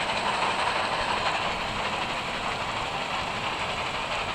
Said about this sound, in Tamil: ட்ரெயின் கொஞ்சம் ஸ்லோவாக தான் போகுது